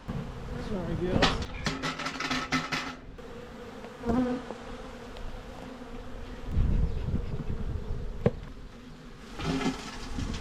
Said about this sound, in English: Here I am moving the hive closer to the bees to make it easier for them to make their way into the hive.